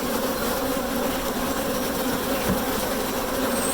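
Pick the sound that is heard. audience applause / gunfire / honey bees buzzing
honey bees buzzing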